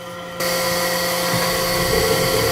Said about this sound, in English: It's an easier breaking chip, easier to manage on the lathe.